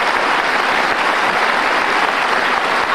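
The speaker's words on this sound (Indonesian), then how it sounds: "kita kasih tepuk tangan" A studio audience at the Indonesian talk show Mata Najwa claps in loud, sustained applause, a dense, even wash of many hands that holds steady for the whole stretch with no speech.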